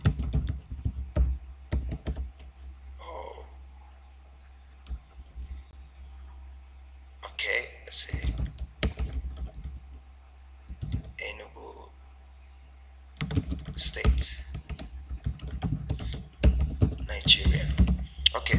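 Close clicks of typing on a computer keyboard, coming in short irregular bursts separated by pauses, with someone talking between them.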